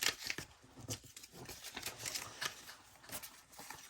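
Scissors trimming the base of a two-sided paper tag for a December Daily project, giving a run of quick, close crisp snips with light paper rustling between cuts.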